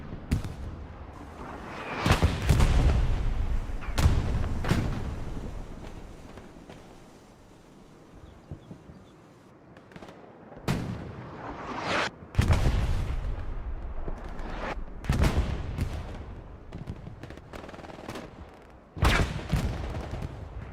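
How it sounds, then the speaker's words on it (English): Battle in the World War II game Hell Let Loose, Hurtgen Forest map: repeated loud gunfire bursts and heavy artillery booms, some near, some distant, with quieter lulls between volleys. "Jeez, it's just rounds just going everywhere."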